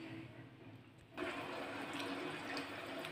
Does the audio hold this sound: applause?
no